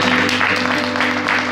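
A church congregation claps in a dense, steady wash of applause that fills the whole short moment, mixed with music and voices.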